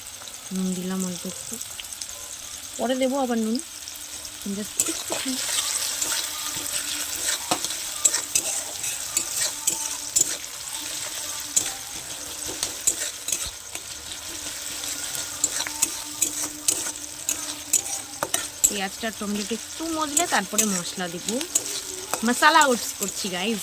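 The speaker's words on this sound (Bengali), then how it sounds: "তো এটা দিয়ে ভালো করে একটু নাড়বো একটু অল্প একটু নুন দেবো যাতে টমেটোটা আর পেঁয়াজটা একটুখানি মজে যায়" Tomato and onion frying with a pinch of salt, stirred vigorously in a pan: a continuous loud sizzle layered with rapid clattering scrapes of a spoon, and a voice speaking briefly near the start and again toward the end.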